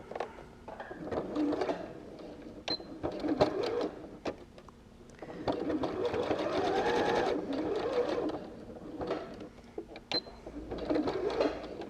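A domestic sewing machine stitches a seam on a fabric triangle pouch, running in bursts of rapid needle chatter with short pauses and clicks between runs, close by and without talk.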